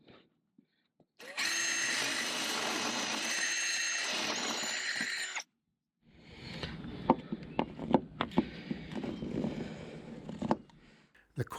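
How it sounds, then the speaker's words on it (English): Power drill boring drain and scupper holes through a rebuilt Coosa and fiberglass transom on a Grady White boat, a steady whining run of about four seconds, then choppy bursts and clunks of further drilling. "I drilled out any drain holes and also made some holes for the scuppers."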